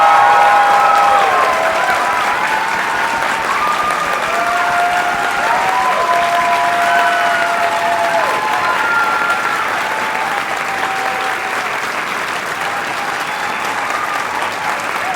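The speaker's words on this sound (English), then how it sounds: "Bettina and Angela, please stand for some applause" Sustained audience applause at an orchestra spring concert, dense and steady clapping throughout, with a faint sustained musical tone underneath, gradually easing slightly toward the end.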